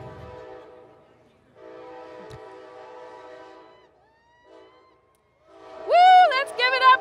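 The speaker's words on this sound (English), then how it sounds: "I am gonna let the train pass." A train passes outside a holiday choir concert, first as a long low rumble that fades, then as a loud blaring horn with several bursts near the end. Some voices murmur faintly underneath.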